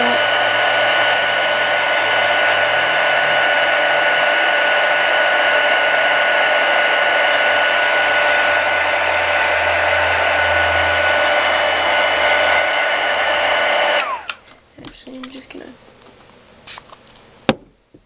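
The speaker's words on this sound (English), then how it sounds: "Sorry, my heat gun's so noisy." A heat gun blows hot air over layered paper craft materials on an altered scrapbook tag: a loud, steady roaring whoosh for about fourteen seconds, then it cuts off, leaving a few small handling clicks.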